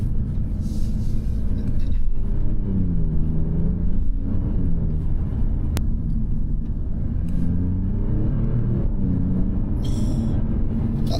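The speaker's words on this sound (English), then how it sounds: "That upshift sound is fantastic on this as well." A 2023 Alfa Romeo Giulia Quadrifoglio driven on a race track, its engine droning loudly and steadily from inside the cabin while rising and dropping in pitch through several upshifts.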